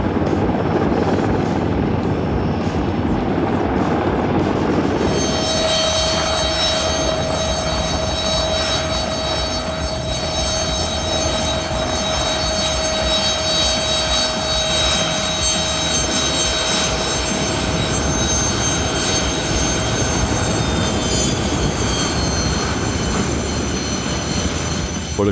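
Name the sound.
Mi-26 heavy transport helicopter in flight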